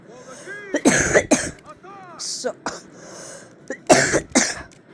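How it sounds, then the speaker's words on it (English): Harsh coughs come in two close clusters of a few bursts each, separated by short throaty vocal sounds. "Got a bit of a cough at the moment."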